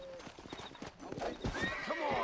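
A horse in the Red Dead Redemption video game, set in Mexico, whinnies loudly near the start and then stamps and clops its hooves restlessly, with a second shrill neigh rising near the end.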